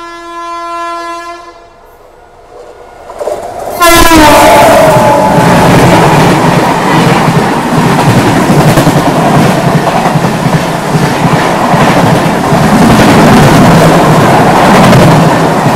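An Indian Duronto Express overtakes at speed on a line near Pune, opening with a long loud horn blast followed by a sudden roaring rush of passing coaches and continuous rattling wheel-on-rail clatter, very close and loud throughout.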